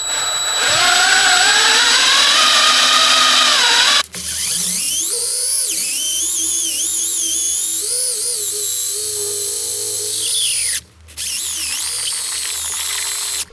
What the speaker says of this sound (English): put the other end of the hose from the drill pump down into the tank